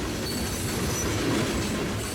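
A CSX freight train rolls past at night near Lake Nona, a steady low rumble of wheels on rail with faint squeal and clatter, moderately distant and unbroken throughout.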